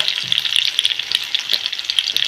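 Dried fish curry ingredients frying in oil in a pan, a steady close crackling sizzle with bright spitting pops, no voices over it.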